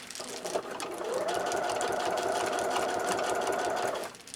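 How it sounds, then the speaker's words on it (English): A small sewing machine runs steadily for a few seconds, stitching through thick binding on an RV window cover, its even motor whir with a rapid needle rhythm before it stops. "This is harder to sew on because of all the thickness, but this little machine can handle it."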